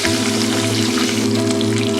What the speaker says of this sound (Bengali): এইভাবে ভাজা হয়ে গেছে, এবার তুলে নেব